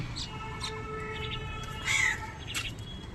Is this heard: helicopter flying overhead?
no